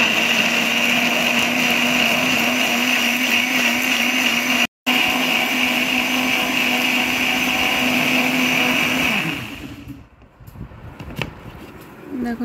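A kitchen blender whirs loudly and steadily, blending raw green mango with water into juice under its lid, with a brief dropout midway before the motor winds down and stops near the end, leaving quiet room noise.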